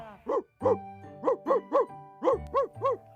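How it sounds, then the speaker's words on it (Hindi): Wild dogs bark in a children's story, about eight short, tonal, cartoonish barks in uneven bursts, close and clear against a quiet background. "खरगोश ने जंगली कुत्तों के भौंकने की आवाज सुनी"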